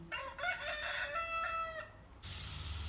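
A rooster crows once, a loud, clear cock-a-doodle-doo lasting about two seconds, followed by faint background noise.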